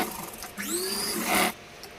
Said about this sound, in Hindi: अब इस पे एक सिलाई इस पे भी हम चलाएंगे बिल्कुल सीधी